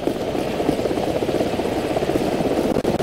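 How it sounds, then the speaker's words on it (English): A helicopter's steady rotor thump and engine drone in Call of Duty: Modern Warfare, loud and close, holding constant throughout with no talking. "Hold on, the helicopter's back."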